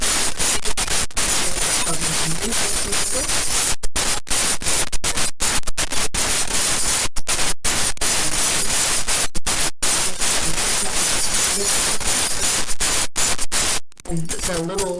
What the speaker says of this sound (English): It's a stick with a wire and flattened out old bottle caps.